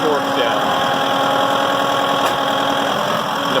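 A Massey Ferguson 2705e tractor idles steadily while reversing a short way with its forks, giving a constant, close mechanical hum with a faint knocking texture and a voice talking over it.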